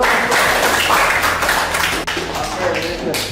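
A classroom group claps together in a brief burst of applause that thins out, with voices over it.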